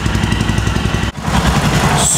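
A Royal Enfield Himalayan motorcycle engine runs steadily at idle nearby during a service, a loud continuous low throb with rapid regular pulsing and a brief dip midway.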